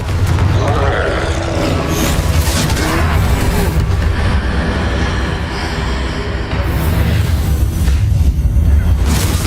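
Confringo blasting spell explosion in Hogwarts Legacy, a loud sustained booming rumble with heavy low-end blasts, mixed under game music and voices talking throughout.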